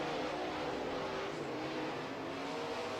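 Late model race cars roar around a racetrack during a heat race, a dense, steady engine drone at a distance with no clear passes or pauses.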